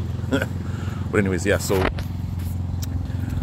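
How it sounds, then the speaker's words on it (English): A lawn mower engine drones steadily nearby, a low continuous hum running under a man's speech. "Somebody's just lawn mowing."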